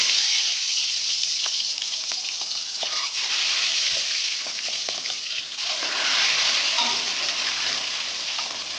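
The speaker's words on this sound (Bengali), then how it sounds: "এরপর আমি এক এক করে ডিমগুলো ভেজে নেব।" Eggs frying one by one in white cooking oil in a pan for a Bengali egg curry, a steady loud hiss and crackling sizzle with scattered pops, continuous and close throughout.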